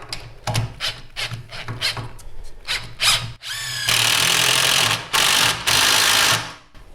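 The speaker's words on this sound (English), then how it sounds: "it helps if you've got an impact driver as well" Screw driven into a wooden stud with an impact driver during stud wall framing: several short bursts, then long, loud, steady driving runs with brief pauses between, close up and with no talk.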